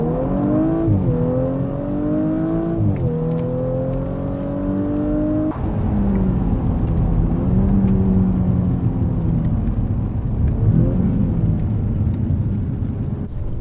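An Audi RS5 weighing about 1800 kg drives on the old layout of the Charade race circuit, heard from inside as a steady, loud engine drone that rises and falls through gear changes.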